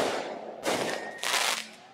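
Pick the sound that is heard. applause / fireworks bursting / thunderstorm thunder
fireworks bursting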